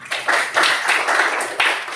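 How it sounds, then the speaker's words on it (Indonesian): Short bursts of clapping from a classroom audience welcoming a group presentation, several quick rounds of hand claps in uneven pulses over two seconds. "Tepuk tangan semuanya."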